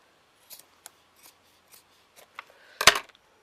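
Scissors snipping off excess material while making a chewing gum pin cushion, several quiet separate cuts close up, ending with a louder final snip, with no talk.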